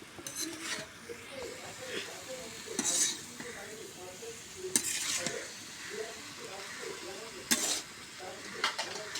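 Potatoes being stirred with turmeric, salt and chili in a hot pan, with steady sizzling and repeated scraping of a spatula against the metal, plus a few louder clanks, heard close up.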